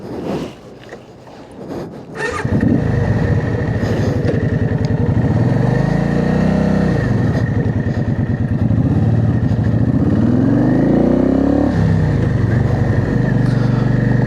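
A motorcycle engine starts and idles loudly nearby, then revs up and down in several rising and falling surges.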